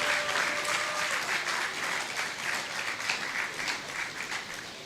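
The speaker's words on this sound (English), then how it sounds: "And we have to applaud them." Sustained applause from an audience at a university graduation ceremony honouring prison inmates, steady and fairly loud throughout with no break.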